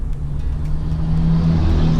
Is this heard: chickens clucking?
no